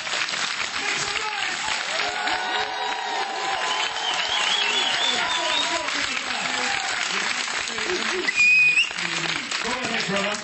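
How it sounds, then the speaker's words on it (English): An audience at a London Q&A event gives a sustained, dense round of applause that stays loud and even for the whole stretch, with some crowd voices mixed in and a brief brighter swell near the end. "give Brother Jason a big round of applause"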